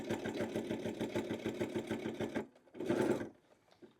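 A sewing machine stitches fabric for a bag, starting on a straight seam. A steady, rapid mechanical chatter runs for about two seconds, pauses briefly, then comes back in a short burst. The machine is close and fairly quiet, and no one speaks.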